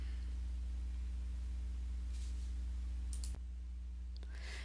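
A computer mouse gives two or three faint, sharp clicks over a steady low electrical hum in a quiet room.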